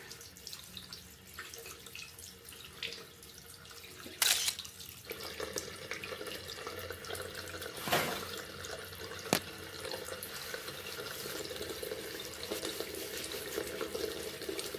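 Running tap water while hands are rinsed at a sink during a food hygiene routine, a steady moderate wash with a few brief louder splashes and clatters, no talking.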